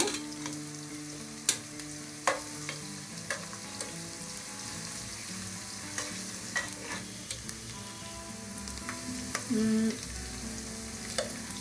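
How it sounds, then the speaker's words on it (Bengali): Onions sizzle and fry in a pan at low volume, a soft continuous crackle broken by scattered clinks and scrapes of stirring, with no one talking. "পেঁয়াজটা ভাজা হচ্ছে।"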